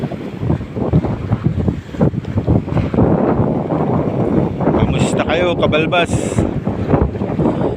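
Strong wind and heavy waves at sea batter a small outrigger boat, with steady roaring wind noise on the microphone and surging water throughout, while someone talks over it.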